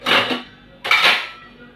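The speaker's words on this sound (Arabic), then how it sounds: "هلم بقى حبه المواعين اللي انا غسلتهم" Two quick bursts of clattering washed dishes being stacked together, close by with a short pause between them.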